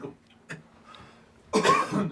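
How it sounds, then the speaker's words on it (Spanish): A couple of short, dry coughs, then a harsher burst of coughing, close and fairly loud, in a quiet room. "Se me dio un acceso de tos"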